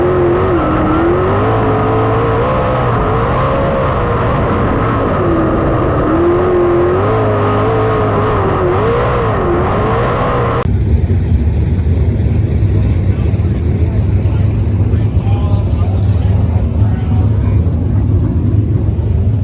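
Dirt track sprint car engines roar loudly and continuously at Sharon, with a steady pitch-wavering engine drone that shifts into denser, broader racing noise partway through, close and dominant throughout.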